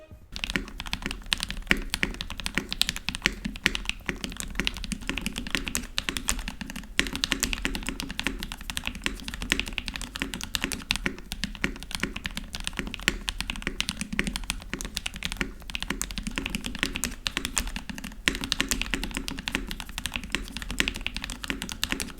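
Steady, fast typing on a custom NK87 Entry Edition mechanical keyboard, dense clacky keystrokes continuing throughout at close range with no voices.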